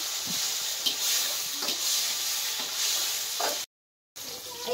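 Tomatoes hit a pan of frying chilli, garlic and cumin with a steady, close sizzle and faint stirring, broken by a brief silent gap near the end.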